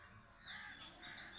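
Crows cawing, faint harsh calls repeating a few times over a soft outdoor background.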